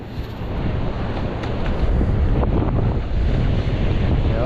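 Ocean waves wash onto a beach during metal detecting, a steady roar of surf under heavy wind buffeting on the microphone, continuous and fairly loud with no talking.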